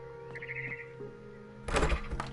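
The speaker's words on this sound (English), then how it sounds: "Then I heard chirping outside my window." Birds chirp faintly outside a window in the video game Edith Finch, a few short tweets over a quiet steady hum, followed by a louder rustling burst near the end.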